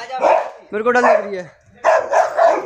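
A large dog barks in short bursts close by, mixed with people talking and a nervous voice throughout.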